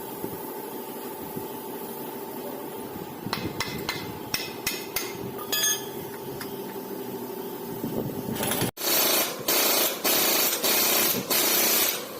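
Metal hammer blows strike a vehicle's torque rod during leaf spring rubber seat and damper replacement, starting as scattered sharp knocks and then turning into loud, rapid, ringing repeated strikes close by in a workshop.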